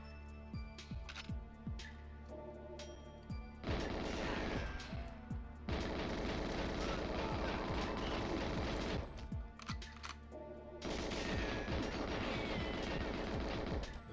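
Rapid gunfire in GoldenEye 007 on the Nintendo 64, dense sustained bursts of automatic shots with short pauses between them, loud and continuous, with no voices.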